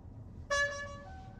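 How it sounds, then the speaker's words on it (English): A 2021 Tesla Model Y horn heard from outside the car, a single short tonal honk that starts abruptly and fades quickly, faint and somewhat distant over low background noise. "I were to honk the horn, we could hear this."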